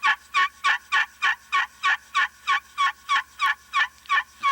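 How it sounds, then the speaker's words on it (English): Rapid, raspy turkey yelps made on a slate call with a graphite striker repeat about thirteen times in an even rhythm, close and clear with no talking. "I'm going to yelp just a little bit with this graphite striker"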